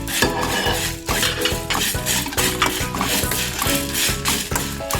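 Whole spices (pepper, cloves, mace, fennel, cardamom, cinnamon) fry in a pan for coconut milk chicken curry, with a close sizzle under repeated rhythmic scraping and clinking of a spoon stirring against the pan.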